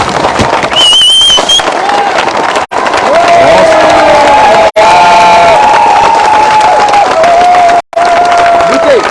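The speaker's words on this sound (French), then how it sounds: "Nils Berger, on t'applaudit bien fort." A crowd cheers and applauds at a boat christening for Maxime Sorel's racing yacht before the 2022 Route du Rhum, loud and continuous, with whistle-like tones and brief dropouts.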